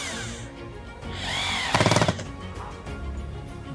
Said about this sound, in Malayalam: ഡ്രില്ല് എടുത്തിട്ട് നമ്മൾ എന്നിട്ട് സ്ക്രൂ ചെയ്യുകയാണ്